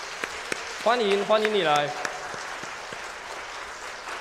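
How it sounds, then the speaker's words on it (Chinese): A church congregation claps together to welcome a visiting sister during a Sunday worship service, a steady wash of applause with scattered sharp claps, and a brief spoken greeting rises over it partway through. "我们一起拍手来欢迎她"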